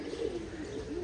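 Domestic pigeons nesting with their chicks give soft, low, throaty coos, a faint, steady murmuring call heard close by in a quiet setting.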